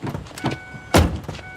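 A supercar's door opens with a short mechanical whir followed by a single solid thunk, close and brief, with no voices.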